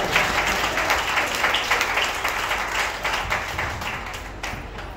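Audience claps in a dense, steady burst of applause at a talk, loud and sustained from start to finish with no voices over it.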